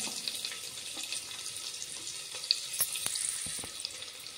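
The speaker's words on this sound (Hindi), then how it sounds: "अब प्याज को हम थोड़ी देर भून लेंगे" Chopped onion frying in a pan with cumin seeds, asafoetida and a green chilli for a breakfast dish, giving a soft, steady sizzle with a few light crackles and spoon scrapes; fairly quiet and without talk.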